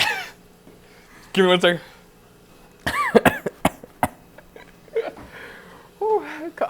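Several bursts of coughing with throaty wheezes, broken up by a person speaking briefly between them, close to the microphone.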